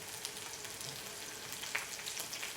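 Onions and peppers sizzle steadily in a pan, a soft continuous crackle heard alone at low volume with a few small pops.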